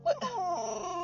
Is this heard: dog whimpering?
yes